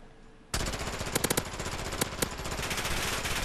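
Rapid automatic gunfire from the video game Modern Warfare bursts in loud and close after a brief quiet lead-in, sustained bursts with sharper individual shots punching through, no talking.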